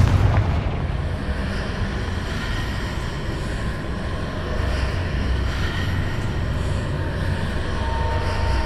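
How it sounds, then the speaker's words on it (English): A Confringo blasting spell detonates in Hogwarts Legacy, setting off a loud, sustained rumbling explosion that fades out slowly with no voices over it. "Confringo."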